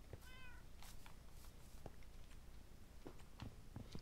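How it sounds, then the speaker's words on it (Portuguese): A cat in the Minecraft video game gives one short meow early on, with a few fainter chirps afterward over a steady background hiss. "Tem uns gatos aqui que eu vou domesticar."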